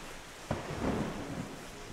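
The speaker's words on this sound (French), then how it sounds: "1 degré, on a de l'orage." A thunderstorm in the video game Terra Nil: steady rain hiss with a sudden crack followed by a low rolling rumble of thunder, fairly faint, with no voices.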